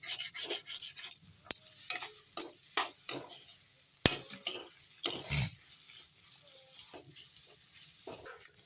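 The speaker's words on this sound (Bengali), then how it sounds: "এখন আস্তে আস্তে সবজিগুলোর সাথে মিশিয়ে দিচ্ছি" Vegetables and fried spices for chowmein being stirred together in a pan with a little oil, giving repeated scraping stirs in irregular rhythm over a low, steady sizzle, close and fairly quiet, with no talking.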